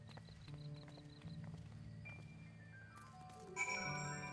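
A mount's hooves clip-clop along a road in Final Fantasy XIV Dawntrail, a soft, even, steady gait under quiet game music, with a jingly chime near the end.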